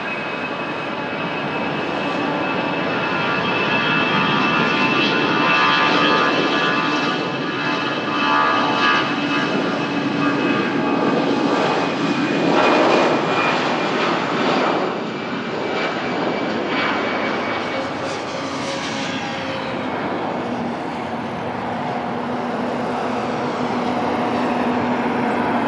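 An Airbus A319 on the Faro flight at Lisbon Airport produces a loud, sustained jet engine roar with whining tones, rising and shifting as the aircraft passes close by.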